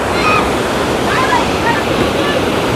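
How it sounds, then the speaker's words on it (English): Rushing water pours through Clarendon Gorge below a bouncy suspension bridge on the Appalachian Trail, a steady broadband roar with wind buffeting the microphone throughout. "take a look at this gorge that this water's flowing through"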